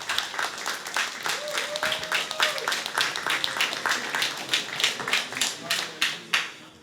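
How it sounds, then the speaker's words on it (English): Audience at a sneaker-brand panel talk clapping for a speaker, a dense burst of handclaps that thins into scattered claps, with voices mixed in. "Let's have an applause for her."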